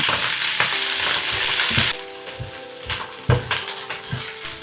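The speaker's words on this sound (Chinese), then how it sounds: "熱鍋倒油，開中大火，油熱後倒入包菜，快速翻炒1分鐘。" Cabbage hits hot oil in a wok over medium-high heat and is stir-fried quickly, a loud hiss of sizzling mixed with repeated metallic scrapes and clanks of the spatula against the wok.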